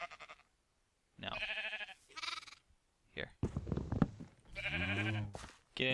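Sheep in the Minecraft video game bleat repeatedly in short, loud, wavering calls, with brief gaps between them and a single spoken word near the start.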